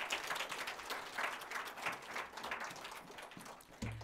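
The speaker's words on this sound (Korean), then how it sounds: "우리 박수 한번 쳐주세요." A Korean church congregation and children applauding during a Sunday worship service, a fairly faint, steady wash of many hands clapping that ends abruptly near the close.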